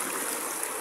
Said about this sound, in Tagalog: Makikita natin tubig. Ganda.